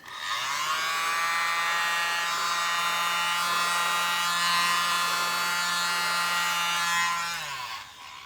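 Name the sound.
mini blower blowing acrylic paint off canvas side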